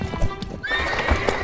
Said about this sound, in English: The horses got spooked